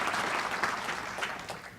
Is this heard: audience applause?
yes